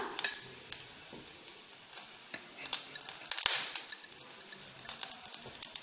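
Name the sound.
cumin sautéing in a pan for pear chutney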